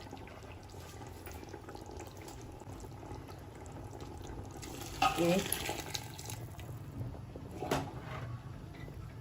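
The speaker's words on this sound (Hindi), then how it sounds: "अब क्या करेंगे, हम पानी एक लोटे से इसको माप के इसके अंदर डाल देंगे।" Hot water poured from a lota into a pot of mutton tahari in a home kitchen, a short splashing pour midway with a quieter splash later over low background hiss, and a voice speaking briefly.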